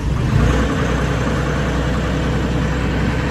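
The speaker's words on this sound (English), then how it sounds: "If you start the engine with your throttle up full," A MultiOne 8.5SK compact loader engine runs with a steady, close, low-pitched diesel drone and no pauses.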